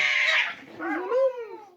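A black cat gives a drawn-out, wavering meow that bends in pitch like talking, close and clear, lasting under two seconds with no other voices over it.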